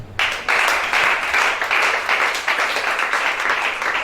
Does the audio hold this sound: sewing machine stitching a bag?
no